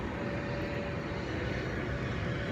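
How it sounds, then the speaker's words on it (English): An airplane passes overhead as a steady, loud, broad engine roar that fills the whole moment without a break. "Airplane again."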